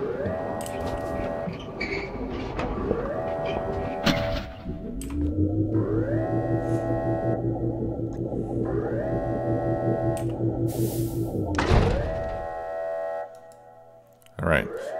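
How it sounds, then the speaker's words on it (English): Factorio rocket launch animation: layered synthetic game effects with clicks and rising tonal hums, a sustained droning buzz building through the middle, then a brief burst and a fading tail. "there's some cool animation as the rocket prepares to launch"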